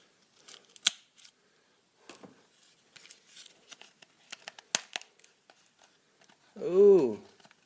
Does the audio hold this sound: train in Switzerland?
no